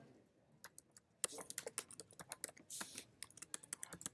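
Brisk typing on a computer keyboard, with a run of quiet, close key clicks that starts near the beginning and then picks up into a denser, louder burst of keystrokes and occasional harder taps.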